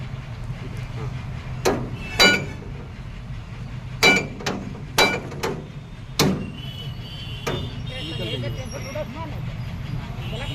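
Several sharp metallic hammer taps strike an excavator breaker part to work out a bend, coming as isolated knocks and short pairs over a steady low engine rumble, with talk in the background.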